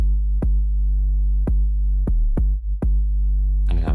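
A Pigments bass synth preset from Analog Lab plays several separate deep notes, with one quick pair near the middle, each swelling and fading over a steady low drone, and a brief noisy burst at the very end.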